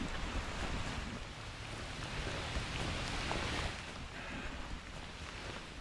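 Heavy rain during an outdoor walk in Maine, a steady dense hiss of falling water and spattering drops that fills the whole stretch at an even, unbroken level.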